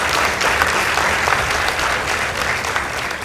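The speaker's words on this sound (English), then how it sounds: "Let's give both teams a round of applause." A studio audience at a high school debate competition gives a sustained round of applause, thick and even throughout, with no talking over it.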